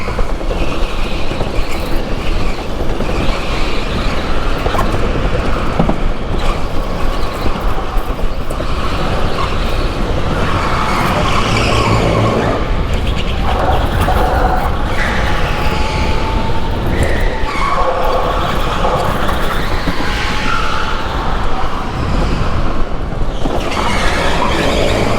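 A race car in a sim racing video game runs a full lap, a continuous loud engine roar rising and falling through gear changes, with brief tyre squeals as it slides through corners.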